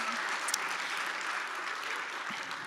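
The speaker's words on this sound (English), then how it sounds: "Applause, potentially." Applause from a conference audience after a talk on new React Native components, a steady, fairly quiet wash of clapping that runs evenly throughout with no voices over it.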